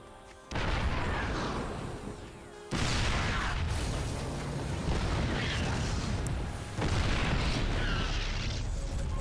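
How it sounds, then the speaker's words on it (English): Explosions at a base in StarCraft 2 roll out as heavy, booming blasts, three loud waves in a row, each onset sharp and then rumbling on with mechanical clatter. "Those explosions you hear"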